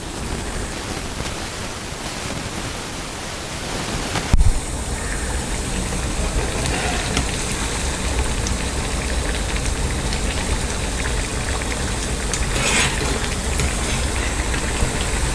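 Potato nuggets coated in bread crumbs sizzle and crackle steadily in hot oil on a low flame, a dense broadband frying hiss that swells slightly after a brief clunk and continues alone.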